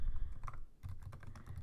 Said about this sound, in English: sorry, my typing is bad